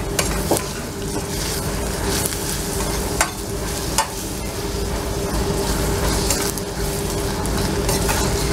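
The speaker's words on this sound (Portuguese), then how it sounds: "vamos também refogar aqui a cenoura" Carrot sautés in a pan, a continuous close sizzle with intermittent scraping stir strokes and a few sharp clicks of a utensil against the pan, no voices.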